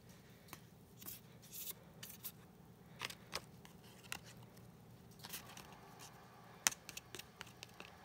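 Scissors snipping through cardboard, a series of faint, irregular cuts and rustles close by in a quiet room.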